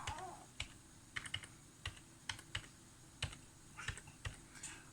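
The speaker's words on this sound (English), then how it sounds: "Then you put in your password here." Password keys tapped on a computer keyboard running Ubuntu 20.04: a quiet, irregular string of light clicks, close up, in short bursts and single taps with brief pauses, with no voice over it.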